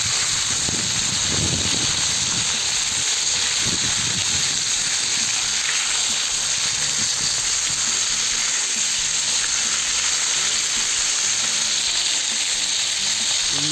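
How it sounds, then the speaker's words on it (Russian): Pork fries in a cauldron over a campfire with a loud, steady hiss of sizzling oil that carries on unbroken, close up and alone. "также его обжариваем с другой стороны."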